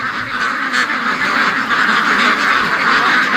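Ducklings in a barn quack in a loud, unbroken chatter, many small voices overlapping close by with no talk over them.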